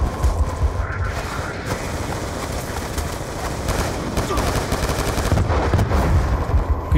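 Gunfire in Call of Duty Black Ops II, rapid automatic shots and sustained bursts rattling continuously at close range, with a voice talking faintly underneath.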